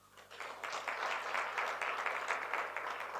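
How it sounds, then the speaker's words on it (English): An audience at a live interactive session with an LGBTQI+ society breaks into applause, rising quickly and holding as a dense, steady clatter of many hands at moderate distance. "can we give it a round of applause?"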